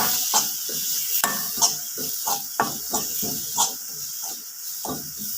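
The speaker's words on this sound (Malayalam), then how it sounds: "ഇതിലേക്ക് സാധാരണ മുളക് പൊടിയും ഒരു സ്പൂൺ ഇട്ട് കൊടുക്കാം. എന്നിട്ട് നന്നായി ഒന്ന് വഴറ്റുക" Spices with a spoonful of chili powder sauté in a hot pan for a jackfruit seed curry, a constant sizzling hiss broken by a steady series of scraping spoon strokes, close and fairly loud.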